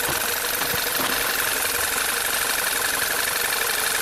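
A VW turbo GDI engine idles roughly during a cylinder drop test, one cylinder suspected dead; a continuous shaky, uneven idle with faint knocking ticks runs close and steady for the whole stretch, no voices.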